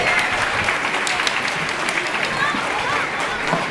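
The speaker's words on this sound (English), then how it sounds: "How about another round of applause for all of our incredible musicians tonight?" Applause for young musicians at an elementary school spring concert, a steady dense clapping from a large audience that holds for the whole stretch, with some cheering and voices mixed in.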